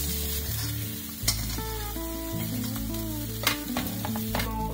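Tofu frying in hot coconut oil in a pan hisses with a constant crackling sizzle and occasional sharper pops, set under a melodic background tune.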